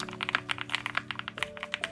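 Keys on a Jelly Epoch 75% mechanical keyboard fitted with PE foam clack in a quick, uneven typing rhythm, deep thocky strokes close up with no voices.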